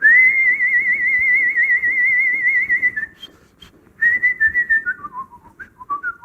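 A person whistles a long, wavering sustained note, pauses briefly, then whistles a descending run of shorter notes, clear and close.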